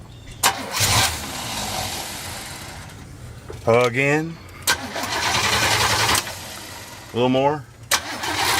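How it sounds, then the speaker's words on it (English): A dually truck with a newly fitted Q-jet carburetor cranks in two short bursts of rhythmic starter whirring without firing, close by, while people talk between the attempts. "Turn the engine. The fuel pump's got to work."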